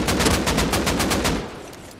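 Rapid automatic gunfire in the video game Rust, a close, loud burst of evenly spaced shots for about a second and a half before trailing off into echo.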